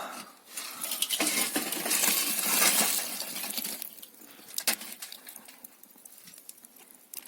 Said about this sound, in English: I'm going to tip this onto one end of the coal